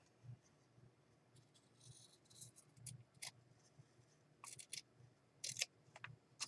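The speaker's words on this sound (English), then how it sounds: "All right, let's get a pair of scissors here." Scissors snipping through a small piece of fabric in a crafting session, giving a few faint, sharp, scattered cuts against a quiet room with a low background hum.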